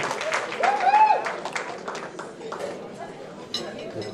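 Audience at a celebration of life honoring a 91-year-old man clapping in a sustained round of applause, with a speaker's voice over it and murmuring around the room.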